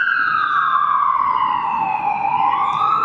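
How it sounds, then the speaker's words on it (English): Ambulance and fire truck sirens wail loud and close in one continuous, slowly sweeping tone that holds for the whole stretch, with no talk over it. "why else would there be like that many ambulances and fire trucks? It's so loud."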